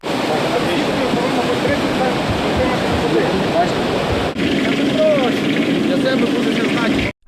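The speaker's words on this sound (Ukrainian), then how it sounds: "Через нього вода набирається в автоцистерну" Fire pump drawing pond water into a fire tanker beside a monastery, a loud, steady rushing roar of engine and water flow that continues without break, with speech faint beneath it.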